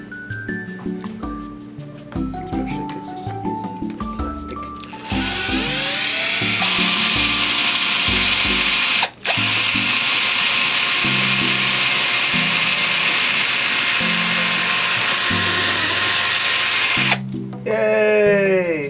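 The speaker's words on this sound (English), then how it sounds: "This you're going to actually have to drill with a small bit to match the screws that were originally in there." A power drill with a small bit boring mounting holes for a Sanwa parts mod of an Agetec HKT-7300 Sega Dreamcast fightstick, loud and close, revving up in short bursts and then whining steadily for a long stretch with a brief break.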